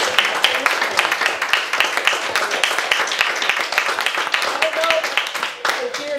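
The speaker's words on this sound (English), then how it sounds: "you deserve a great round of applause." Audience at a Human Books talk featuring Leslie Beck breaks into a steady round of applause, many hands clapping densely and evenly for several seconds, with a few voices faintly underneath near the end.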